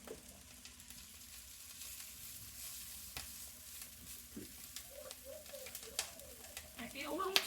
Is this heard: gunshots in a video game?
no